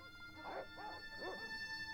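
Dogs in a video game yip and bark in a few short, moderately loud bursts with no talking over them.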